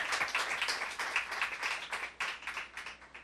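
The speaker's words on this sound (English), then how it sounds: "Thank you for the encouraging applause." Audience applause at a live sci-fi literature panel, a steady crowd clapping with no talk over it, moderately loud and sustained throughout.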